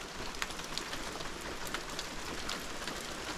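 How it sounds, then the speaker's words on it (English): Heavy rain pours steadily outside while someone shelters indoors in an incubator room, a dense, even hiss with scattered louder drops and no speech. "it's good to be out of that rain"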